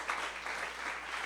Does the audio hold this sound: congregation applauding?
yes